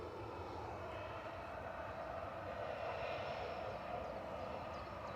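A Boeing 747 on the Tel Aviv to New York JFK service at Manchester Airport, its engines giving a steady, distant broadband roar that holds level throughout with no talk over it.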